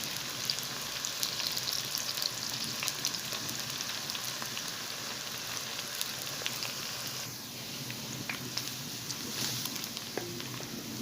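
Onions sizzle in a pan for a white chicken karahi, a soft, steady crackle and hiss throughout with scattered pops, fairly quiet and unbroken.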